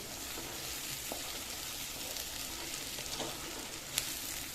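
Chopped onions frying in a pan for parwal (pointed gourd) sabzi give a soft, steady sizzle with a few faint clinks of stirring, alone and fairly quiet.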